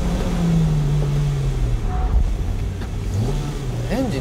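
A high-revving B16B engine in a Spoon Honda Civic Type R EK9 drones and revs toward 11,000 rpm, pitch rising and dipping as it accelerates, with a voice speaking briefly over it.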